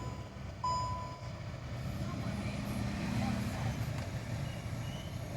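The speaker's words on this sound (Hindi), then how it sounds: "इसके अंदर देखिए एसी की आवाज़ आ रही है सू सू की" The air conditioning in an i20 car with a faulty cooling coil gives off a faint, steady hiss inside the cabin. A low, constant hum runs beneath it throughout, with no clear breaks.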